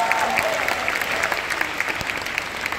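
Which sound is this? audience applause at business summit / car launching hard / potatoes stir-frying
audience applause at business summit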